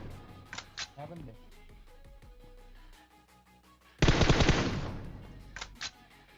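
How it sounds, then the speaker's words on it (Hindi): A rapid burst of gunfire in PUBG Mobile, shooting at a car, cracks out loudly for about a second, then a few shorter shots follow. Quieter game sounds and speech come before it. "अब मैं गाड़ी पे गोली चलाता हूँ, दीवार पे गोली चलाता हूँ"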